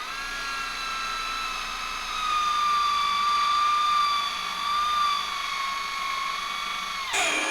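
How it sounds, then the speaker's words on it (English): An electric drill bores holes through a steel seax knife blade tang, giving a steady, loud, high-pitched whine that shifts slightly in pitch before winding down at the end. "then I'm going to drill the holes so it'll fit on the tang"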